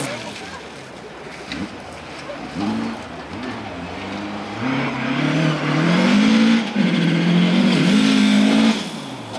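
A hill climb race car driving at Vikersund, its engine rising and revving louder as it approaches, heard under a commentator talking over a loudspeaker.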